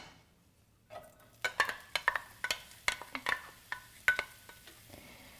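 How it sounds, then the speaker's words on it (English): Onions being browned in olive oil in a hot skillet, with a quiet opening followed by a series of sharp scraping and clinking stirs of a utensil against the pan, over a faint sizzle. "I'm going to start by browning some onions"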